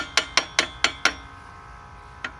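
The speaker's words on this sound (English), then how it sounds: "you're just going to tap it in gently" Hammer gently tapping a loader pin into place, five quick metallic taps in an even rhythm followed by a pause and one final lighter tap, close and ringing.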